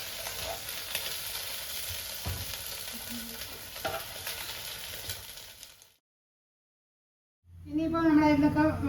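Biryani ingredients fry in oil in a pan until brown, giving a steady close sizzle with stirring scrapes. The sizzle cuts out into silence, then a voice begins speaking.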